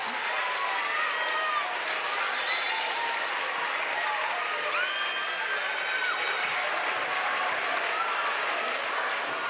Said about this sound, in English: huge ovation from the crowd here after fouling out